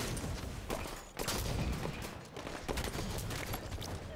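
BMR rifle fire in Halo 5 crackles in dense, rapid volleys, loud and close, with brief gaps between continuous bursts and no voices over it.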